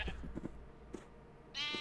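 Sheep in Minecraft bleat several times in short, close bursts, ending with one longer, louder bleat.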